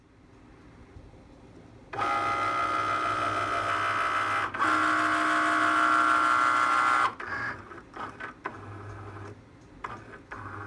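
An electronic cutting machine loaded with cardstock whirs steadily as its sensor scans printed black alignment marks, a continuous mechanical hum with a brief break, then fading into intermittent clicks and motor movements.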